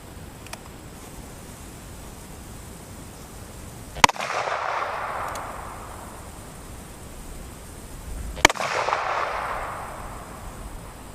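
Two loud shots from a Ruger Super Blackhawk .44 Magnum revolver with a 10.5-inch barrel firing 240 grain cast bullets outdoors, each a sharp crack followed by a long rolling echo, spaced about four seconds apart.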